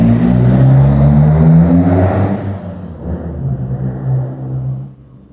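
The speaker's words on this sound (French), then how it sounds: "il y a du bruit, une voiture" A car passes close by outside, its engine rumble swelling loudly then fading away over a few seconds.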